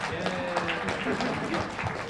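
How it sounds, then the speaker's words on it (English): Crowd clapping at a comic convention panel, a steady round of applause with light background voices, moderately loud throughout. "Everybody clap for Ian."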